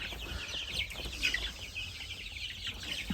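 Young chicks about four weeks old chirp and cluck in a soft, busy chorus, with high peeping calls scattered over faint background noise.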